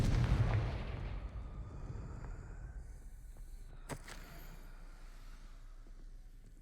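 A fiery Confringo blasting spell from the game Hogwarts Legacy lands with a heavy, booming burst that decays into a low rumble, followed a few seconds later by a single sharp crack.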